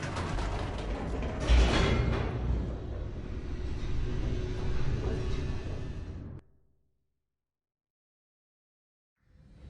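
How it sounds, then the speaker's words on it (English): An elevator descends in The Stanley Parable, with a loud, steady mechanical rumble and creaking gear-like rattle for several seconds before it cuts abruptly to silence, then a faint return of sound at the end. "The elevator raced downward, plummeting towards an unknown fate."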